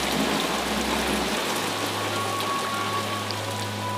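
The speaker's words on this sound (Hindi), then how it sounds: "पर मालूम ऐसा ही पड़ता था जैसे छत पर मूसलाधार बारिश है" Heavy rain pounds a cinema hall roof in a dense, unbroken hiss with a low steady hum beneath it.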